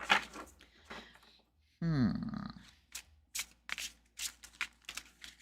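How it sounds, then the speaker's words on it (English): Tarot cards being shuffled in quick riffling bursts, with a brief voice in the middle and crisp snaps of cards near the end. "I'm going to keep shuffling."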